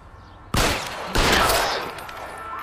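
Gunfire from the video game L.A. Noire: two sharp, loud shot bursts in quick succession, each trailing off into echoing reverberation, with no talking.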